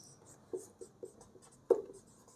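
Pen or chalk writing by hand during a linear algebra lesson, a few short scratchy strokes spaced apart with a firmer one near the end, quiet and close, no talking.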